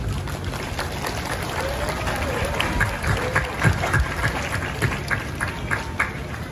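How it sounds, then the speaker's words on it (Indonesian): An audience at a large Islamic gathering celebrating a hamlet's 42nd anniversary applauds the sub-district head, a steady crowd clapping with scattered sharper claps and murmuring voices beneath. "Tepuk tangan untuk beliau yang kerso rawuh di wilayah ini."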